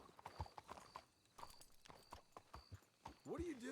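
Horse hooves clip-clopping in Red Dead Redemption 2, irregular steps at a slow walk with people talking over them and a brief whinny near the end.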